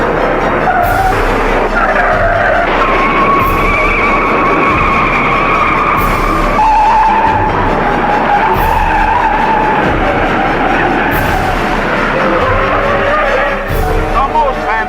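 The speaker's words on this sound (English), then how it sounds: "The most fantastic pileup in auto racing history takes 37 cars out of the race." A pileup of race cars at an auto race, skidding and wrecking in a turn, fills the scene with loud continuous tyre squeal and engine roar, overlapping crashes and thumps, while a voice talks over the din.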